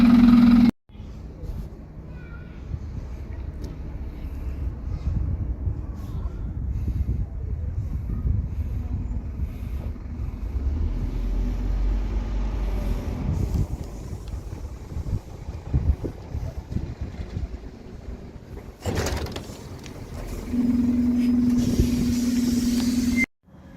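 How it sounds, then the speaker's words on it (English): A Scania bus engine runs steadily, a low rumbling diesel drone with some wind buffeting, holding for most of the stretch before cutting away briefly and returning. "Makes a lovely sound once it's started though, doesn't it? It sounds like heat. Scania, hallmark quality."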